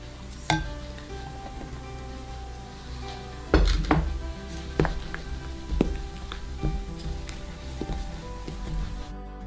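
Tart dough ingredients for a mascarpone-filled tart being mixed in a kitchen, with sharp intermittent clinks and knocks of a utensil against a bowl over a quiet background, some hits louder than others.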